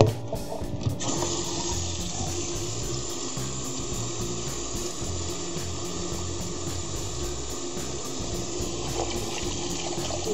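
Tap water runs steadily while oxtails are rinsed in a kitchen, a soft continuous gush and trickle at moderate distance, fairly quiet and even throughout. No one speaks.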